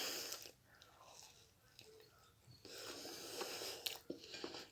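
Close, quiet crunching bites and chewing of toasted sandwiches with pepper, olive and feta, several crisp crunches separated by softer chewing and breathing.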